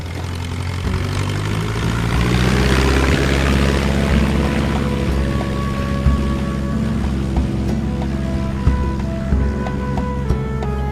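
An aircraft engine drones steadily as the plane flies, a loud continuous propeller hum with shifting tonal overtones and no speech.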